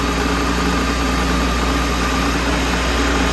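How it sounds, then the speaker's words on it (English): Steady, loud drone of a car engine running in fourth gear with a J-type overdrive fitted, an even low hum with constant vibration and no talk. "now that it is in fourth gear, I can see if it changes the sound"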